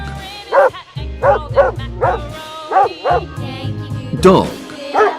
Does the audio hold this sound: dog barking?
yes